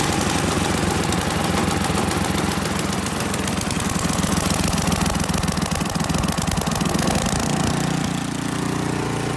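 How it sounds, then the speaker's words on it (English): An Ariens Deluxe 28 snowblower engine runs loud and close, with a constant rapid chugging pulse and a heavy rumble that eases slightly near the end, and no talking. "So I'm gonna let that run for about a minute."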